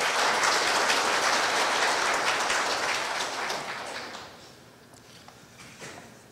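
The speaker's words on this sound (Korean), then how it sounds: "큰 박수로 총장님을 맞이해 주시기 바랍니다." An audience at a Korea University event applauds to welcome the university president, a loud sustained round of clapping that gradually fades to quiet.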